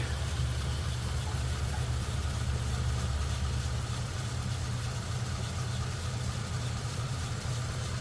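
A 1953 Ford Customline flathead V8 engine idles steadily with a smooth, low, even rumble that continues unbroken, close by and with no talking.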